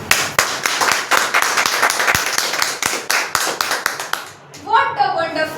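Audience clapping after a student's speech at an English-speaking seminar, many sharp overlapping claps for about four seconds before fading out, followed by a voice speaking.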